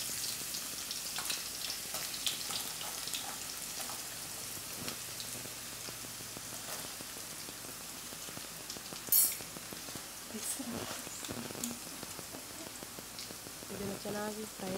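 Chopped onions frying in oil in a pan for a spicy prawn chilli dish, giving a steady broadband sizzle and crackle throughout, with occasional stirring clinks and brief voices near the end.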